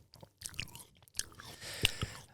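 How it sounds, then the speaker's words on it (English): Chewing right up against a microphone, a few close, wet, crunchy bites and mouth clicks in short bursts with brief pauses, fairly quiet overall. "Don't chew in the mic."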